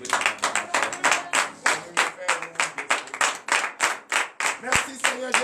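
A church congregation at morning prayer in Benin claps in acclamation, a steady run of sharp, close claps repeating about three times per second with a crowd feel throughout.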